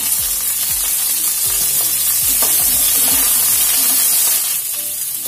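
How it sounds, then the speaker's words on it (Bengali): Cauliflower pieces frying in a pan, a continuous hissing sizzle under a series of rhythmic scraping stirs of the spatula, close and fairly loud with no voices. "2 থেকে 3 মিনিটের মতন কপিগুলো একটু ভাজা ভাজা করে নেব।"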